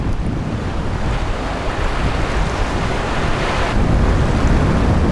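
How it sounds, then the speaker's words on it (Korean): Heavy waves of a winter sea off Jeju surge and crash with gusting wind buffeting the microphone, a loud, continuous rough roar that swells near the end. "파도가 몰아치는 겨울바다."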